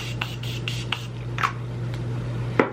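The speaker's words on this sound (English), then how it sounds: "now I'm just gonna finish with some highlighter spray" Highlighter setting spray misted in short hissing bursts, about six quick sprays spaced irregularly, close and fairly loud over a steady low electrical hum.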